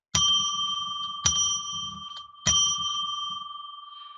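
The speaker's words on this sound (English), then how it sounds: "I'm going to ring a bell 3 times to declare sacred space." A small bell is struck three times at even intervals, each strike a bright clear ring with a long sustained shimmer that decays before the next, heard alone.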